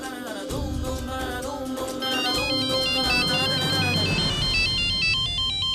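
A phone ringtone plays a bright, repeating electronic melody, loud and close, continuing steadily throughout.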